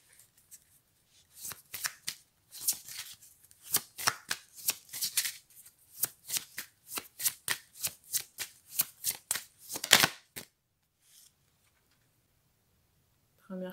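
Tarot cards are shuffled by hand in a quiet room, a rapid series of crisp riffling bursts close up, with a brief voice at the end.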